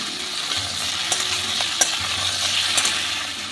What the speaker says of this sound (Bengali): এবার ফুল আছে আমি ভেজে নেব ঝিঙে দিয়ে